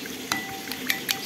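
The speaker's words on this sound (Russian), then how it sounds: "Вот сейчас я ее буду вот так, эту массу взбивать" A slotted spoon whisks a mixture of water, sunflower oil, salt, garlic and 6% vinegar, giving a faint liquid swish with a few sharp clinks of the spoon against the bowl, quiet and close.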